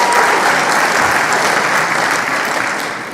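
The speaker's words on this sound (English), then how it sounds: "So we just clapped for Ben comparing primates to humans." An audience at a talk breaks into sustained, dense clapping that stays loud and even for a few seconds before easing off slightly at the end.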